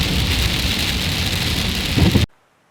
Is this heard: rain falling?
yes